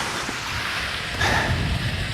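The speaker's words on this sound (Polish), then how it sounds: "jest taka pogoda jaka jest, czyli jest zimno, pada, ponuro" Steady rain falls in cold, gloomy weather, a continuous broadband hiss that swells a little louder past the midpoint, with no voices.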